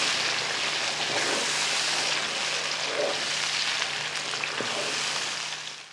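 Boiled chickpea paste is stirred into a pan and fried for Lahori murgh chanay, with a dense, steady sizzle and occasional scraping stir sounds. Close and continuous, fading slightly at the end, with no talking.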